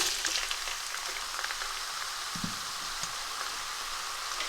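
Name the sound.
onions frying in hot oil in a pan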